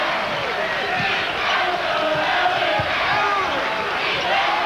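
A college basketball arena crowd at an NCAA tournament game between Maryland and Gonzaga roars in a steady, dense wash of cheering and shouting, loud and continuous throughout.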